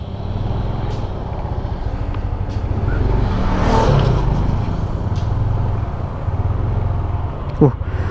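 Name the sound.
Yamaha Nmax 155 scooter riding off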